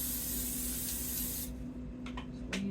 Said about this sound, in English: lightly spray the chimichangas with cooking spray. I have olive oil cooking spray.